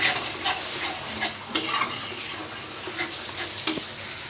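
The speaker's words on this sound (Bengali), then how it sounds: "দেখতে পাচ্ছ আস্তে আস্তে মশলার থেকে তেল ছাড়িয়ে যাচ্ছে" Spice masala fries in oil for chicken biryani, a soft sizzle under intermittent scraping stirs and light clinks of a spoon against the pan.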